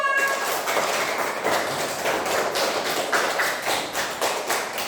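A class of primary school pupils claps for a group of classmates, a dense, steady patter of many hands filling the room for several seconds with no talking.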